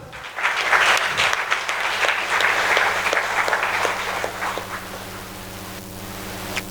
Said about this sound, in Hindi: तो मैं चाहूँगा उनके लिए भी एक जोरदार तालियाँ।